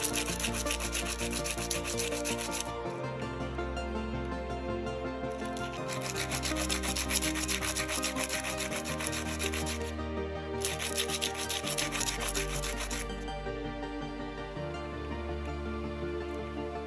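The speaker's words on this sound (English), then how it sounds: "sanding it down and just getting it the right level and the right shape to attach to the frame" A small wooden repair piece for a 19th-century picture frame is sanded by hand. Steady rhythmic rasping strokes come in bursts with short pauses, close and continuous, while a soft tonal background runs underneath and no one speaks.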